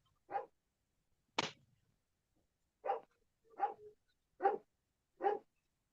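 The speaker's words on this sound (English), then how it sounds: "I hear your dog barking." A dog barking: six short, separate barks at an uneven pace, set against otherwise quiet surroundings and picked up at a moderate distance.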